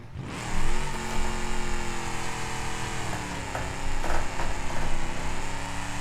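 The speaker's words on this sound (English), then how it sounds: "keep you either stuck in a stationary position doing a burnout" A car in the BeamNG driving game holds a stationary burnout, its engine screaming at high revs with a dense, sustained harmonic whine and tire roar that swells briefly near the start and again toward the end.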